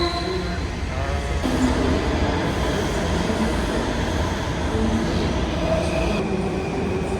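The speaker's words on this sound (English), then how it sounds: "I think my train is coming now." A Washington DC metro train rumbles into a station, steady loud rolling noise with faint wheel squeal and some indistinct voices in the background.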